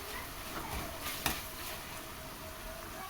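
Capsicum rice masala stirred and roasted in a pan over low flame, soft scraping and faint sizzling at low volume with one brief sharp clink of utensil on pan.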